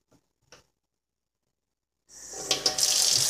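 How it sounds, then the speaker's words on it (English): Hot tap water gushes suddenly over a toy pony after a couple of faint knocks and near silence, then runs on as a loud, close, steady splash under the faucet. "you're going to run under the hot water"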